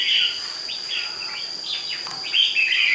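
A red-whiskered bulbul, a wild-caught bird kept in a cage, sings a series of bright, warbling phrases close by over a steady high insect-like whine, with louder bursts near the start and the end.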